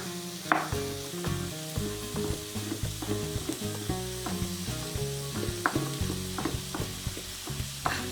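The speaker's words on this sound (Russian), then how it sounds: "овощи будут поджариваться" Julienned vegetables, including cucumber strips, sizzle and crackle steadily in a hot pan, with faint clinks and scraping of stirring and a clear tonal hum running underneath.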